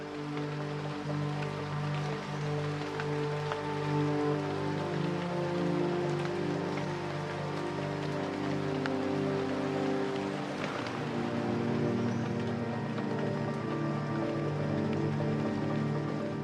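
Heavy rain pours steadily over a tropical rainforest, a dense continuous wash with layered animal or insect tones running through it.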